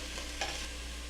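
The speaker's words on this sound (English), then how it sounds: "I love the smell of searing beef" Beef tips searing in a hot pan while being browned, a steady, close sizzle with a brief louder crackle partway through.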